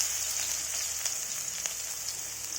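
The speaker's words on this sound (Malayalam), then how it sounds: "കടുക് പൊട്ടിക്കഴിയുമ്പോൾ ആ സവാള അരിഞ്ഞത് ഇട്ട് കൊടുക്കുക." Chopped onions and popped mustard seeds fry together in hot oil for a taro-stem thoran, giving a steady, close hiss of sizzling with faint crackles throughout and no voices.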